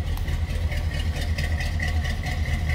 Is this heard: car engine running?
yes